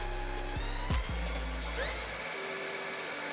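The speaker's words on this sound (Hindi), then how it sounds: "अब यहाँ पर ड्रिल मशीन चलेगी तो हमारी मोटर चलेगी इसके अंदर" An electric drill spins a small motor used as a generator, its whine starting low and rising in pitch, with a few brief stops and restarts, loud and close, with no speech.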